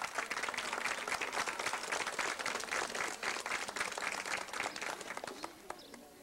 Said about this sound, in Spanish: Tenemos un aplauso.